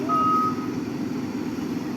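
A container truck reversing toward a house gives one clear electronic backup beep over its deep, steady engine rumble, which carries on alone through the rest of the moment.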